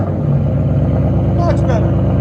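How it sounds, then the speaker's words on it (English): A Ford Mustang GT with a 5.0 Coyote V8, rear muffler delete, Dynomax race bullets and an X-pipe holds a loud, steady, low rumbling drone up close, with a brief voice in the middle. "Ford Mustang GT rear muffler delete with DYNOMAX race bullets and active exhaust delete"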